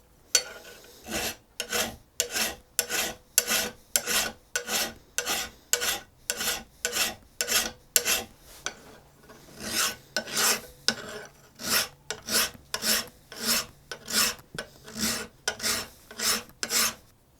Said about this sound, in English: files are a push cut, not a pull.